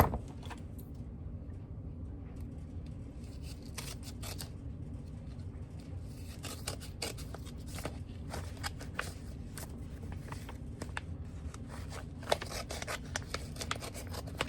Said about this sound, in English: I'll just cut the very, very tip.